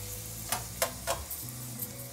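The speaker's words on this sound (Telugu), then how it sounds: "దానికి పాన్ పెట్టి ఆయిల్ వేస్తున్నాను, మసాలా కరికి పోపు పెడతాను" Bay leaf and whole spices go into hot oil in a pan for masala curry tempering, a soft steady sizzle marked by three or four sharp crackling pops.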